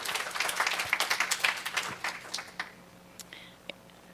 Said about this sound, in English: let's give Bernadette a nice little round of applause